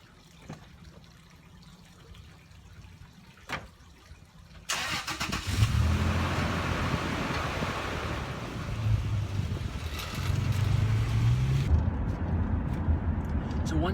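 A second-generation Toyota Tacoma drives along a road after a quiet start, its steady engine and tire rumble rising and holding close for about ten seconds with cabin noise.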